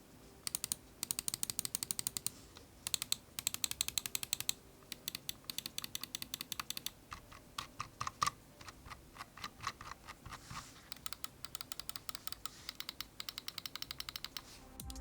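Rapid series of crisp, loud clicks from a Ducky Feather gaming mouse with Huano Blue switches, tapped repeatedly in quick irregular bursts with a deep, sharp snap, close and alone without talk.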